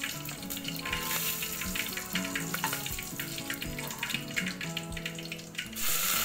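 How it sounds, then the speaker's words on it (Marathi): Curry leaves hit hot oil in a home-style tadka for drumstick amti, producing a bright, continuous sizzle that holds steadily at close range beneath background music. "कढीपत्ता टाकायचा."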